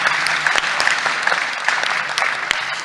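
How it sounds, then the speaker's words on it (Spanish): Warm applause from an audience for the sign language interpreters at a care and health event, a dense, loud patter of many hands clapping continuously. "pero un aplauso para ellas"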